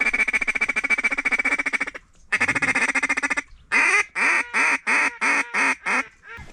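Drake ducks quacking loudly and close at Jandari Lake during a duck hunt, long rapid runs of quacks broken by a short pause, then a string of separate evenly spaced quacks.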